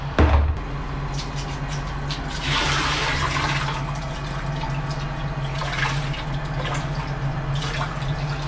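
Liquid, likely an organic mix made with chocolate milk, pours steadily into a large tank holding about 260 gallons, a continuous splashing rush with a low hum beneath it.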